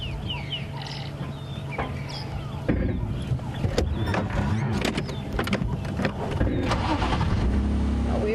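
Safari vehicle driving through a game reserve, engine rumbling steadily near the mic throughout, with birds clucking and calling around it and brief clunks and knocks as it moves.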